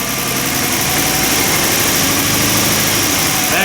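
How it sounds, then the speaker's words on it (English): A Lincoln LS engine runs at wide open throttle, a loud, dense, steady roar close by that stays constant for the whole stretch with no speech. "Now I'm going to go to wide open throttle."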